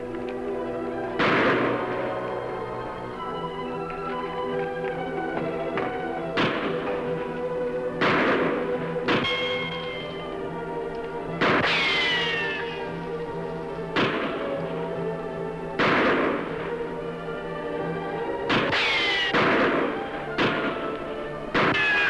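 Gunfire in an old radio western drama, with repeated loud gunshots and ricochet-like whines spaced irregularly over a steady background of recorded room tone, some shots landing in quick pairs.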